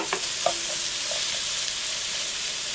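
Vegetables hit a hot pan of speck fat and butter, setting off a steady, fairly loud sizzle with a few stirring clinks near the start.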